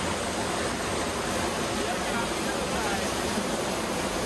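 A mountain river at the second trail post on Mount Latimojong rushes steadily, a loud, even wash of flowing water with no breaks.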